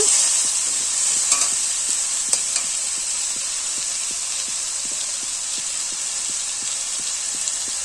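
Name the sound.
spice masala frying and being stirred in pan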